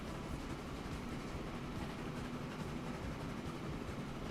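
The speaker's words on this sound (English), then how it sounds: "Train is arriving any second now." A train rumbles in steadily in Transport Fever 2, a dense, even rolling roar of wheels and carriages that stays constant and moderately loud with no voices.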